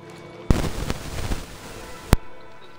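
Two sharp blasts in a video game, a burst at the start opening into a rumbling crackle, then a second louder crack near the end, like grenades going off, close and loud with no talk.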